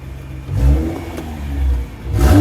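A Toyota Supra engine revving close by, rising in two loud surges with a brief dip between, deep and throaty with no talk over it.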